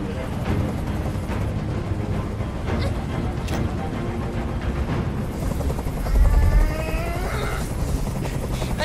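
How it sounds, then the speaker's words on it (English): A helicopter in the video game Detroit: Become Human hovers nearby with a steady, loud rotor thrum and chop filling the scene throughout, with a deeper rumble surging briefly near the end. "I can't stand that noise anymore. Tell that helicopter to get out of here."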